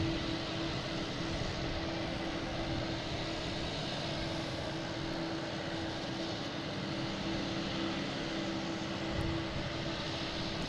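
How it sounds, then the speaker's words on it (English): A Delta Airbus A319 arriving from Chicago at Boston Logan gives off a steady, even jet roar that holds at moderate loudness throughout, with no talk over it. "we got a Delta A319 coming in from Chicago, flight 2816"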